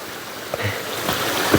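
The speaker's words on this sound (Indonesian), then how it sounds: "Melewati sungai kecil." A small stream of flowing water gives a steady, close babbling wash with light splashy bursts, continuous and fairly quiet over the short stretch.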